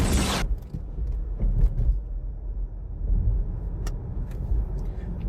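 Skoda Enyaq iV electric family SUV accelerating, with a steady low rumble of road and tyre noise inside the cabin, creaks and faint mechanical ticks, no engine roar.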